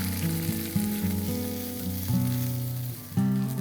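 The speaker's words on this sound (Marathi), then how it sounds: "आता हे सगळं आपल्याला छानपैकी परतून घ्यायचं आहे" Onion, dried coconut and garlic sautéing in a pan give a steady, close sizzle, with a few stirring scrapes breaking in; no voices.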